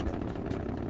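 A Delta II rocket lifting off with the Spirit Mars rover aboard: a loud, steady, dense roar that fills the whole short moment without a break.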